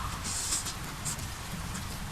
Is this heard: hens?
no